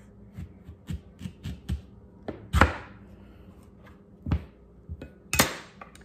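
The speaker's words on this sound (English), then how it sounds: "Slice it down the middle in half." A knife slices a pear down the middle in kitchen prep for baked chicken legs, giving a run of short, close clicks and taps of the blade against a cutting board, with a few louder knocks.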